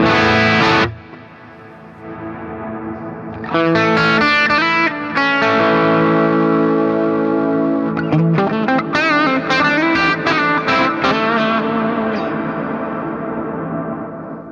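Distorted electric guitar chords and riffs played through an Axe-Fx III ring out with a wide, washy reverb tail, loud and sustained, after a brief pause near the start.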